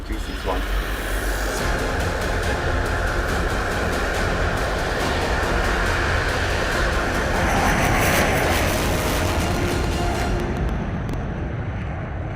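A fighter jet takes off with a sustained, loud roar that swells and then holds for several seconds, with voices speaking over it.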